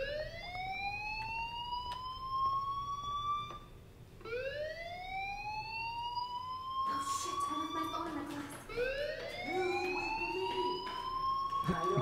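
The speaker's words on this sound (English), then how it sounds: "Do you hear that fire alarm?" Electronic fire alarm siren in the video game Life is Strange, sounding in repeated rising sweeps about every four seconds, loud and continuous, with other game sounds and voices layered in during the second half.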